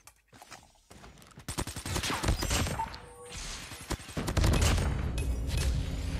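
Gunfire from the mobile video game Call of Duty Mobile, rapid bursts of shots and crashing impacts filling the clip, loud and continuous with a brief lull near the middle.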